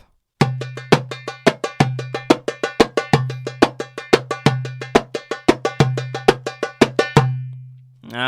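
Darbuka playing the Malfuf 3 rhythm with a slap: resonant low doum strokes alternate with fast bright tek rolls in a tight repeating cycle, close and loud, ending on a ringing low stroke.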